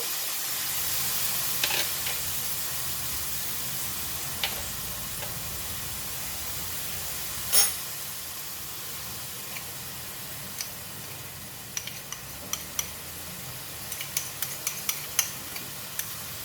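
Vegetables and bean sprouts sizzle and hiss as they are stir-fried in a hot pan while a utensil scrapes and taps now and then, the clicks growing busier toward the end.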